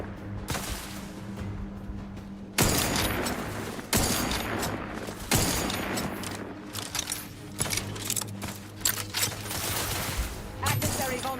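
Bursts of gunfire in a video game, several loud volleys of rapid shots breaking out at intervals over a low ambient hum, with short pauses between them.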